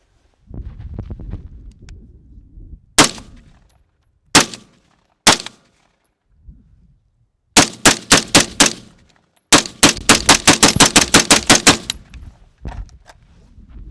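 A suppressed rifle firing Federal green tip rounds through a Sandman series suppressor: several sharp single shots, then two fast strings of rapid fire, loud and close, with low rumbling handling noise in the gaps.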